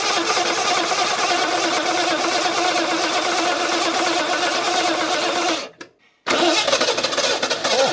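A small engine cranks and sputters with the choke held, running steadily and loud for several seconds before abruptly cutting out, then catching and firing up again.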